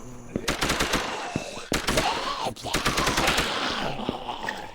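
Automatic gunfire from a zombie survival video game rattles out in rapid bursts, loud and close, with short pauses between volleys and someone talking faintly underneath.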